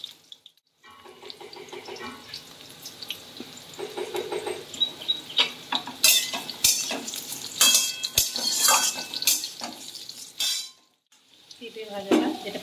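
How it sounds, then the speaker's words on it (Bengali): Sweet potato pieces stirred into a pan for a Bengali mixed-vegetable curry, with scraping clatter of a spatula and bursts of frying hiss, loud and close, pausing briefly near the end. "এরপর আমি সব সবজিগুলো এক এক করে দিয়ে দেবো ভাজা।"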